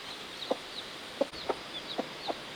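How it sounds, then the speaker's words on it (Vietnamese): A flock of farm chickens with newly hatched chicks cluck in short, separate calls spaced about half a second apart, fairly close, over a soft steady outdoor background with no talk. "Đàn gà này là vừa mới nở xong mà nó nhanh thật đấy."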